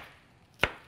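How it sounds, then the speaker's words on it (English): A single sharp knife chop through onions on a cutting board, one crisp close thud-and-crunch after a quiet stretch, with no talking. "So let's just chop these onions up, and we can add those to the pan."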